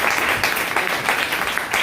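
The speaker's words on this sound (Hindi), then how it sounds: "जहाँ नारायण सर के लिए जोरदार ताली बजाइए" An audience at a business meeting in Varanasi applauds, a dense, fairly loud wash of many hands clapping in an indoor hall that swells and dips slightly throughout.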